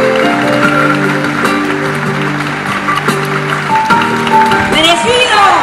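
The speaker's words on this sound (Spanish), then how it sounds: "Que se renueven los aplausos" An audience applauds at the 53rd Cotagrito de Oro festival in General Cabrera, with steady, loud clapping filling the whole stretch while voices and music carry over it.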